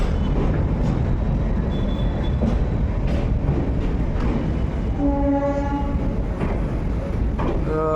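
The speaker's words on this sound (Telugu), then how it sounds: "ట్రైన్ స్లో చేసేది" The Pinakini Express passenger train slows on bridge number 4 outside Vijayawada, with a constant heavy rumble of wheels and carriages and a tonal horn-like sound rising midway.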